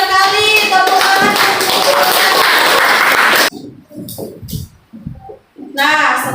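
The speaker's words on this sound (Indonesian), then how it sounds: "bagus sekali, tepuk tangan" A school classroom of children claps together for several seconds, a busy patter of many small hands under a teacher's voice, then the clapping stops and scattered speech follows in quieter surroundings.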